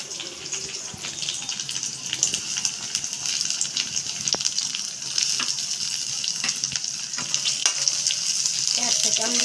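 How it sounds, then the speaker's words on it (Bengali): Chopped capsicum sizzles and crackles in a pan of frying potatoes for a Bengali peas curry, with a spoon stirring and scraping steadily throughout, close and continuous. "ক্যাপসিকাম দিয়ে একটু নাড়ছি"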